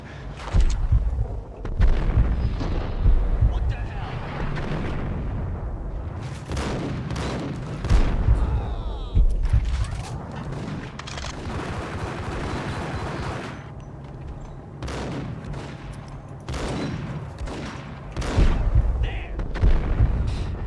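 Gunfire in the shooter game Max Payne, with repeated shots and bursts crackling through the stretch, some rounds striking metal railings, loud and close over a rumbling game backdrop.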